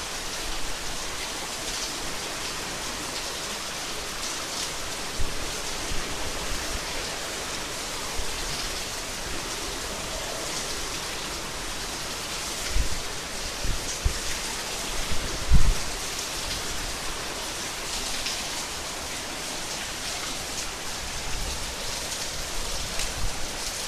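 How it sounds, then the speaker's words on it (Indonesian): Heavy rainstorm with strong wind in Klidon, Ngaglik, Sleman, Yogyakarta: a dense, steady roar of rain and gusting wind fills the whole stretch, with a few louder thumps and bursts near the middle. "hujan badai, anginnya gebes."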